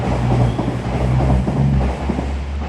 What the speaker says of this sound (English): Here's the train I've arranged to come in.